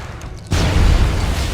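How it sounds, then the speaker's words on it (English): A grenade going off in Fallout: New Vegas: an abrupt, loud, close blast with deep rumbling low end that stays heavy as it decays over about a second. "We got another grenade coming"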